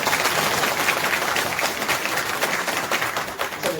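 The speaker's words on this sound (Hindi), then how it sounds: "अब है ताली बजाने का टाइम।" An audience clapping at a political supporters' gathering in Delhi, a dense, continuous patter of many hands, loud and close, filling the whole stretch with no talk over it.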